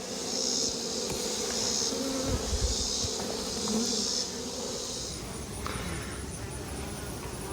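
Honeybees buzz steadily around a beehive in a summer apiary, a dense continuous hum with a few louder passes near the microphone, and faint voices now and then underneath.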